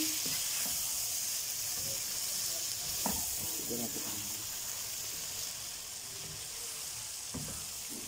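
Okra hits a hot pan of oil with green chillies for achari bhindi, giving a loud, steady sizzle and hiss with occasional clinks and scrapes of stirring, while a voice talks faintly underneath.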